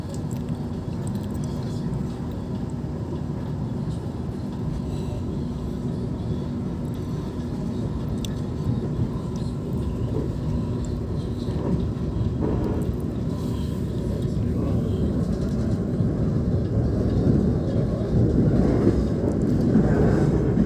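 The Wijaya Kusuma economy premium train pulls out of a station, heard from inside as a steady low rumble and rattle that slowly grows louder, with faint voices underneath.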